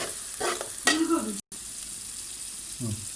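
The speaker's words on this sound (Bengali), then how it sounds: "এখন দেখেন ভাজা হয়ে গেছে অনেকটাই।" Vegetables frying in a pan for bhuna khichuri, a steady close sizzle with a few stirring scrapes of a spoon, briefly cut off by a short silent gap midway.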